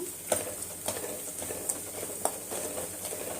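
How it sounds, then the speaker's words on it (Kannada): Garlic and onion frying in a pan, soft sizzling with periodic stirring scrapes and light clicks of a utensil against the pan, fairly quiet and close. "ಚೆನ್ನಾಗಿ ಫ್ರೈ ಮಾಡ್ಕೊತಾ ಇದ್ದೀನಿ ನೋಡಿ ಬೆಳ್ಳುಳ್ಳಿ ಈರುಳ್ಳಿ ಎಲ್ಲ ಚೆನ್ನಾಗಿ ಫ್ರೈ ಆಗಿದೆ"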